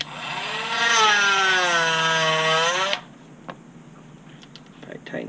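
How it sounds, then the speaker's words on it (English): A Dremel rotary tool whines steadily at high pitch for about three seconds while working on a part for an HB Racing D817V2 RC car kit, then cuts off, leaving faint handling clicks. "Probably tighten down my Dremel a little bit better."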